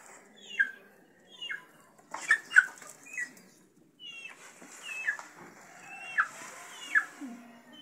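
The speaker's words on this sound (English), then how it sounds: "We have also the hens." Hens in an African village cluck in a series of short, sharp calls spread across the clip, fairly close and moderately loud over quiet outdoor background, with no talking.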